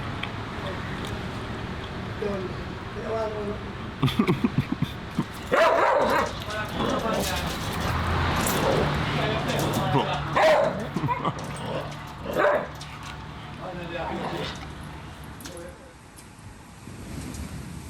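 A dog barks in short bursts and whimpers around breakfast time on a coconut farm in Jamaica, the yips rising over steady outdoor ambience while people talk nearby throughout.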